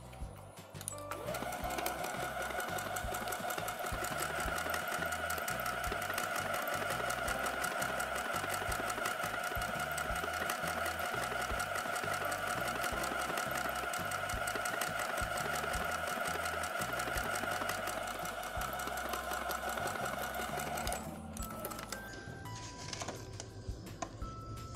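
A Brother SQ9000 sewing machine stitching a decorative heart stitch, number 61, with the N presser foot, running steadily and loudly with a rapid needle rhythm for about twenty seconds before stopping.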